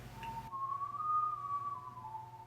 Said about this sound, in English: He followed the sound of the whistling until he reached the edges of the potato flower's petal.